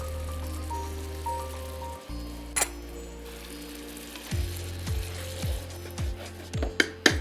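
Chopped green chillies sizzling in a pan of cooking yogurt: a crackling fry with scattered pops, joined by sustained tonal notes and a few sharp clicks.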